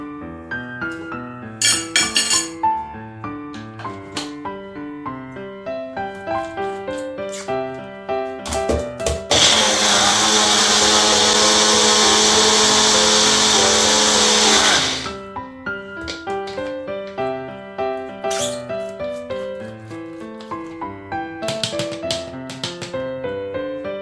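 Blender blade whirring loudly through spinach and cucumber in a steady roar for several seconds, set amid softer tapping and clinking kitchen sounds.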